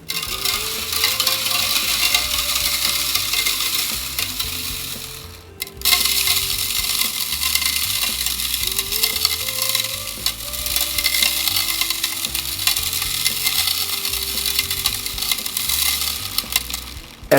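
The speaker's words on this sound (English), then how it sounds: "then we shake the sieve and we'll get all the finer stuff at the bottom" Stacked mesh sieves of gold-bearing alluvial gravel are shaken steadily, giving continuous loud rattling and grinding of stones and grit with a brief pause midway.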